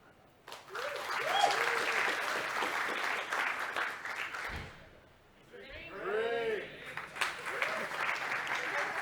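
Conference audience cheering and clapping as the speaker takes a drink of water, loud applause with whoops and shouts that dips briefly midway, then swells again with scattered yells.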